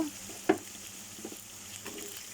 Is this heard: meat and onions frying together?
yes